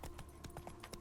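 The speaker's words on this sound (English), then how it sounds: "Why can't I run on this horse?" Video game horse hooves clip-clop at a walking pace, about six quick distinct steps in a second, faint and close with a low background hum.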